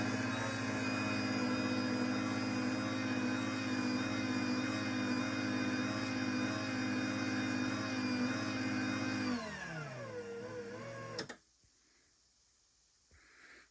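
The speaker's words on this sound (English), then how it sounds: "we'll go ahead and run it just so you can hear what the motor sounds like" A LiftMaster 85503 garage door opener motor runs with a loud, steady electric whine and hum, winding down after about nine seconds and stopping with a clunk, then near silence with no talking.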